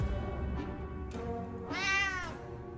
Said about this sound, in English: Holy crap, we have a cat!